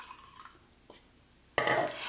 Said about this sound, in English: you take the liquid and you pour it into the can